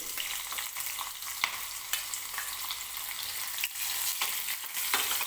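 Steady, close sizzle of onions frying in a wok, with occasional scrapes of a spatula stirring through the crackle.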